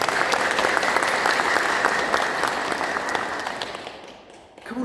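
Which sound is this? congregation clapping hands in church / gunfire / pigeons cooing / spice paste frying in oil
congregation clapping hands in church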